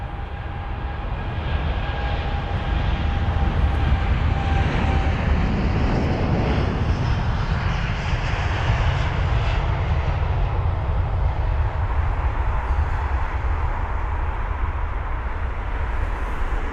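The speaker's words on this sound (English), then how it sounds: "We've got the Virgin 787 9 Dreamliner with the reg Golf Victor November Echo Whiskey heading to Seattle." Virgin Atlantic Boeing 787-9 Dreamliner, nine years old, departing London Heathrow; a loud, sustained jet engine roar that builds and holds steady throughout, heard close up with a broad rushing wash and no talk.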